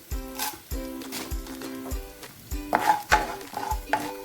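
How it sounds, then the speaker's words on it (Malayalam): Urad dal fries in a pan of oil for kodo millet lemon rice, stirred with a metal spoon in a quick, rhythmic series of ringing scrapes over a light sizzle, close and clear. "ഇതിലേക്ക് ഉഴുന്നിട്ട് കൊടുക്കാം ഒരു സ്പൂൺ ഉഴുന്ന്"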